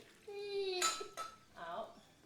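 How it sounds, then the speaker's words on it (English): Pots and metal utensils clank while vermicelli noodles are strained in a kitchen: a tonal metallic ring followed by a couple of sharp clinks, fairly quiet and close. "So I'm just straining the vermicelli"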